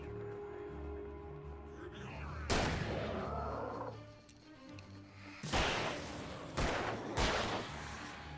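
Shotgun blasts in the video game Alan Wake, several loud, close booming shots, one early then a tight cluster of three near the end, each with a short decaying tail over a low game ambience.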